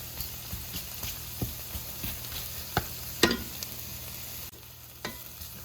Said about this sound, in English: I'm gonna go ahead and let this cook for a little bit until the mushrooms soften up